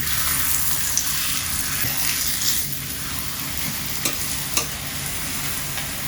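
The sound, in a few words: scallion pancake frying in oil in pan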